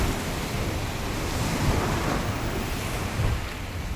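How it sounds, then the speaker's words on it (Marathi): Sea waves surging against the waterfront at the Gateway of India in Mumbai, a steady close wash of surf mixed with gusty wind buffeting the microphone, continuous and loud throughout with no talk. "आणि बघा इथंच लाटा येतात, लाटा पाण्याच्यावरती बघा, पाणी लाटा येतात वरती"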